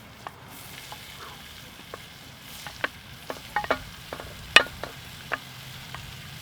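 Onions frying in a pan beside garlic while being stirred, a steady low sizzle under a scatter of sharp scrapes and clicks from a utensil against the pan, close up with no talking.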